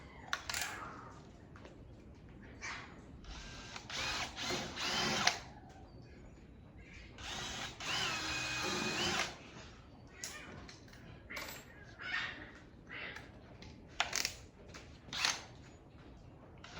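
A power drill bores holes through plexiglass for a sliding door shadow box, whirring in several bursts of a few seconds each, separated by quieter pauses and light handling noise.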